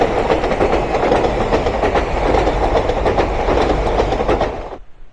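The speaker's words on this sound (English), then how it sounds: "You will now and again get the noise of the train." A train rolls past close by near a busy coastal footpath in Cornwall between Marazion and Penzance, a steady loud clattering rumble of wheels on rails lasting several seconds before cutting off abruptly.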